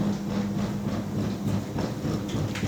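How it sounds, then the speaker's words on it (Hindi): A washing machine with a cracked drive belt runs with a rough, continuous rumbling and irregular knocking, loud and close with no talk. "जब इस तरह की आवाज़ करना शुरू हो जाए वॉशिंग मशीन"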